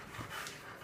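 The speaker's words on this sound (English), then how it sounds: "Now we're back in the kitchen. And he's panting." A dog panting in a kitchen, quick breathy huffs close by in a brief burst, with no talking over it.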